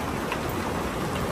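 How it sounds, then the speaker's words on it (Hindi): Heavy rain pours down on a farm, a dense, even hiss of falling water that holds steady throughout with no voices over it. "बारिश हो गई है तेज"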